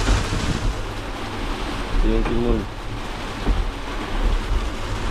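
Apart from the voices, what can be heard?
strong wind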